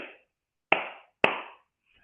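Hand claps in a West African-derived pattern, men's longer form: two sharp claps about half a second apart, each with a short ringing decay, close and fairly loud with no talk.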